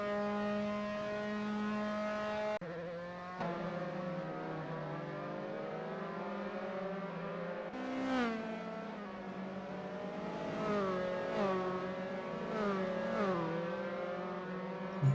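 Formula 3 race cars at Silverstone in a racing video game, engines holding a steady high whine, then several rising and falling pitch sweeps as cars shift and sweep past into a corner, continuous and fairly loud.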